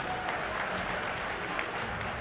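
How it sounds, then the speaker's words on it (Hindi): An audience at a political meeting in Madhya Pradesh applauds with steady, dense clapping that holds at an even level throughout, heard from a moderate distance. "ताली तो बजा दो"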